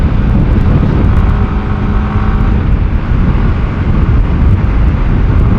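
A Honda CBR150R motorcycle engine roars loudly and steadily throughout, its droning hum mixed with heavy wind rush as if heard close while riding, with no talking.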